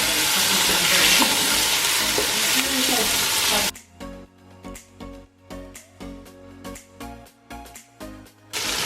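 Chunks of beef with browned onions and turmeric sizzle loudly in a pan, then a spoon stirs them in regular, rhythmic scraping strokes as the frying quiets.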